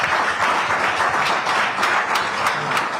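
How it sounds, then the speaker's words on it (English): Applause from the gathered audience at a press conference on Lagos local government polls, a steady broadband patter of many hands clapping at moderate distance, continuous for about three seconds with no talk over it. "Those who show up, we should commend them and give them a round of applause."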